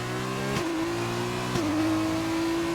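Racing car engine in a racing video game accelerating hard out of the final turn, a loud sustained whine that climbs in pitch, with two quick gear shifts briefly dropping the tone before it rises again.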